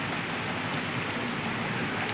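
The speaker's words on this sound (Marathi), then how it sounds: "पण आता आहे ना खूप पाऊस चालू आहे." Heavy rain pours steadily in the monsoon, a dense, even hiss of water on surfaces outside a shop beside a road, continuous and close with no pauses.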